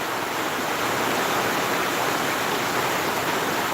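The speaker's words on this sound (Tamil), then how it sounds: "அதுக்கப்புறம் அஞ்சு மணிலேருந்து தான் பயங்கரமாக மழை வருதுங்க" Heavy rain pours down in a steady, loud, unbroken hiss on a rural cattle farm, with no voices or other distinct sounds breaking through.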